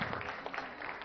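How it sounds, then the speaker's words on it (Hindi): Dense, steady applause from an event audience for actress Vani Kapoor, a continuous wash of many hands clapping at moderate volume with no distinct individual claps. "वानी के लिए जोरदार तालियां एक बार"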